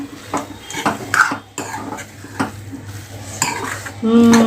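Spoon stirring chopped coriander into onion chutney in a pan over low heat, with repeated close scraping and metallic clinks against the pan and a light sizzle.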